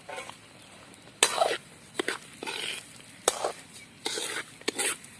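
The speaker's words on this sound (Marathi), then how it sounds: "तर आता हा रवा भाजून घ्यायचा आहे" Lapshi rava semolina roasts in hot oil over low flame, heard as soft intermittent scraping and stirring bursts with a faint sizzle between them, fairly quiet and without talk.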